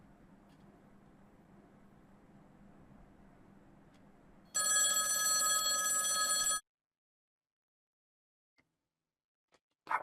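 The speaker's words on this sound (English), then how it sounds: "That was the wrong phone sound." A telephone rings in the video game Lempo as one loud, continuous burst lasting about two seconds. A faint low hum plays before it, and near silence follows with a few soft clicks.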